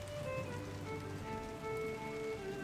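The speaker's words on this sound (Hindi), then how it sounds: "ऊपर से जोरों से बारिश हो रही होती है" Heavy rain pours steadily in a forest setting, a dense continuous hiss of drops striking surfaces with some faint tonal music-like layers running beneath throughout.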